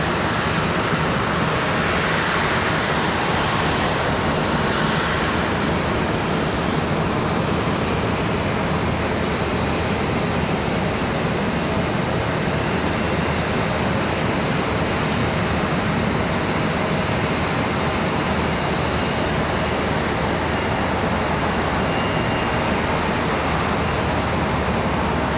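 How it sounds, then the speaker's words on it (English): A Boeing 737 coming in to land at Charlotte Douglas International Airport, a loud sustained broadband jet roar that holds steady throughout, with no voices. "Good look at the 737 coming in."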